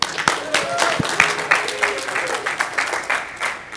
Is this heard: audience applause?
yes